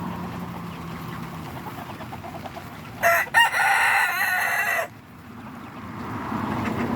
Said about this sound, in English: You better be nice, rooster.